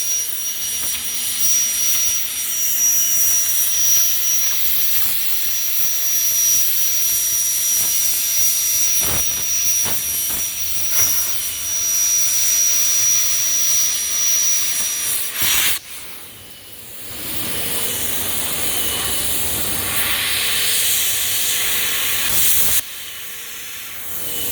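CNC plasma cutter slicing steel plate with a 200 ampere nozzle, a loud steady roaring hiss that runs unbroken, dips briefly partway through, then resumes strong until a sudden cutoff near the end.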